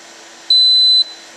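A Power Jack 8000W 24V pure sine inverter's low-battery alarm gives a single sharp, high electronic beep lasting about half a second over a faint steady hum.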